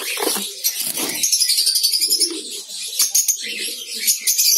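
Lovebirds in a colony breeding setup call in sharp, high chirps and chattering bursts, close and fairly loud, with low cooing-like tones and some rustling between calls.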